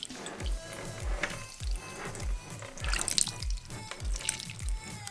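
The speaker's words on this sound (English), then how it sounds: "Whoops! I spilled water on my camera." Water splashes and trickles over a Canon G1X Mark III compact camera, a run of close, repeated pouring bursts and drips, loud and uneven.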